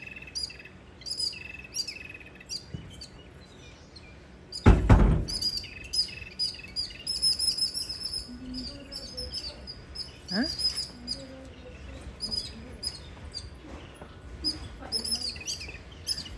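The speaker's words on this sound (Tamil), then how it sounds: "இந்த குருவி எதுக்கடா இப்படி கத்திக்கிட்டே இருக்குதுன்னு நினச்சி பார்த்துக்கிட்டே இருந்தேங்க" A small sparrow chirps over and over in a steady run of short, bright calls outdoors, with one loud low thump partway through and faint background noise.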